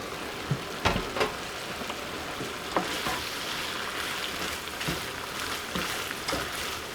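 Ground meat browns in a pan for pepper stuffing, a continuous sizzle broken by occasional thuds and scrapes of a spoon stirring, close and fairly loud.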